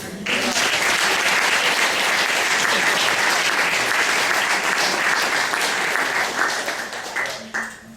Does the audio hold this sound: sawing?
no